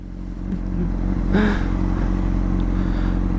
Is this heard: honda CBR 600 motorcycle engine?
yes